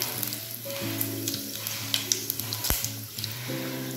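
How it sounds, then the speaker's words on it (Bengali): Fennel seeds, dried red chilli and a bay leaf sizzle in hot oil in a wok, a steady close crackle with occasional stirring scrapes and faint background tones, no voices. "এরপর এটা তেলে 30-40 সেকেন্ডের জন্য হালকা ফ্রাই করে নেব"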